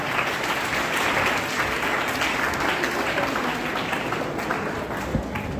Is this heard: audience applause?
yes